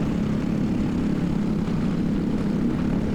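An LO206 racing kart engine drones steadily during a masters/heavy class race, a loud, constant buzzing whine with no breaks, heard close up from the kart itself and no talking.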